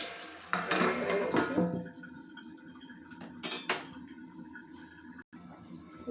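A metal lid set onto a cooking pot of hilsa fish curry, with a couple of clinking metallic knocks and a brief rattle, then quiet kitchen background.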